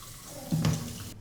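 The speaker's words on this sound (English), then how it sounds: "And I'll just wash this dish out then." Tap water running into a kitchen sink while a dish is rinsed out, a soft steady trickle that briefly splashes louder partway through, close by and without any talk.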